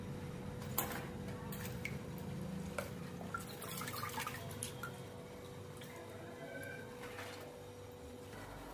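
Potato wafers soaked overnight are lifted out of their water, with faint, scattered drips and small wet splashes continuing at a low level throughout.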